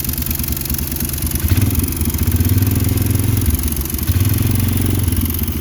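A small mini go-kart engine running after starting, exhaust fitted loosely, giving a steady rough idle with rattly mechanical clatter and brief revs rising and falling, close and loud throughout.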